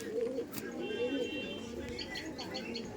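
Giribaz pigeons in a fancier's loft, a soft low cooing near the start, fairly close, with someone speaking nearby and light background chirps.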